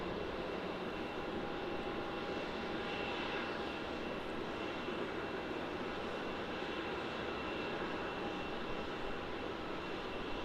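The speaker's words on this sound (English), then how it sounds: "our next departure is going to be the DHL 767, which will be departing to Singapore as HJ11." A DHL Boeing 767 freighter departing Melbourne Airport for Singapore, its jet engines producing a sustained, dense roar with a faint whine on top, steady and continuous without pause.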